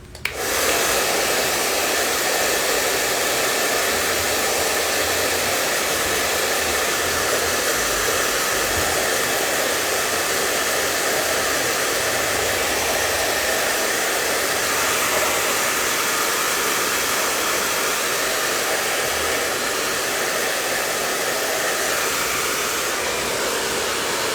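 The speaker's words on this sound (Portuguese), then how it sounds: "eu vou usar o secador novamente pra poder a gente continuar" A handheld hair dryer roars steadily and loudly for the whole stretch, switched on at the start during a live craft class decorating tin cans; no one speaks.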